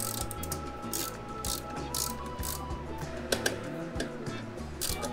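A ratchet tightens the front bolts on an EGO mini bike with rapid, close clicking in a steady rhythm, a few sharper metallic knocks standing out near the end.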